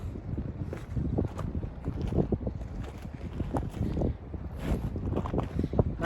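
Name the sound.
wind blowing at Ghost Lake, wind noise on microphone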